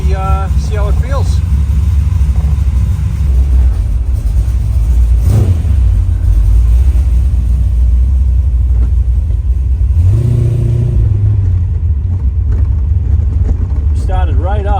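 A C4 Corvette with a 385 engine idles just after an IAC valve replacement, a steady, close low rumble running the whole time, with brief faint voices near the start and end.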